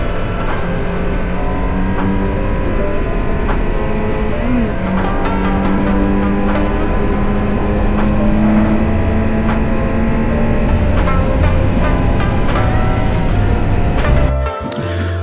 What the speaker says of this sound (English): Hear that engine. It's definitely an inline-four.